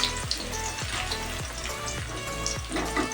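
Finely chopped onions, about three, crackle and sizzle steadily in hot oil in a pan on a gas flame, close and continuous with small spits and pops, a periodic ticking rhythm underneath.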